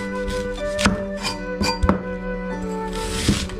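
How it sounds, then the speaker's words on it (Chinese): A knife chops an onion on a cutting board, giving a few distinct, irregular thunks close to the microphone over a low background hum. "把这个洋葱切一下"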